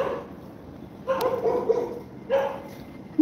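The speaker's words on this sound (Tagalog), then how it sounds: "Hey, may isang aso kasi oh." A dog yips and barks in a few short bursts over a quiet outdoor background, with a whimpering tone between them.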